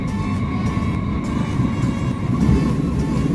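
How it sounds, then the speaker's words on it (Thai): A German VR 423 electric commuter train in the game Minecraft Transit Railway, a steady loud rumbling hum with a faint constant whine running throughout. "อันนี้เป็นรถไฟ VR 423นะครับผม เป็นรถไฟของเยอรมันนะครับ"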